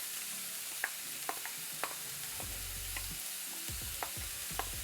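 Bell peppers and onions browning in a pan make a soft, constant sizzle punctuated by regular light taps and scrapes of a utensil, with a low rumble partway through.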